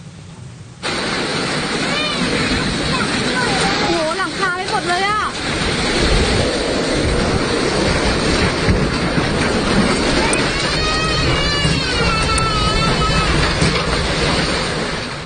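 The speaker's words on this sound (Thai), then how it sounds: "โอ้โห น่ากลัวมากเลยครับ ทั้งลมทั้งฝน แรงทีเดียวครับ" Summer storm in Sam Ngao, Tak, Thailand: strong gusting wind roars steadily with rain and heavy microphone buffeting, loud and close, with a person's voice partly heard under the noise.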